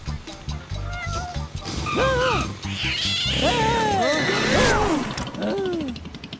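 A cat meows several times in rising and falling cries, fairly close and loud, amid continuous background noise and nearby human voices.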